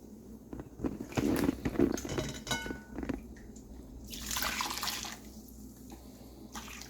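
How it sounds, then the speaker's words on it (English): Homemade chicken stock is poured through a strainer into a bowl, a short splashing gush that trickles and drips before a second pour, quiet and close, with handling clatter and no talk. "I'm going to run it through this strainer into this bowl"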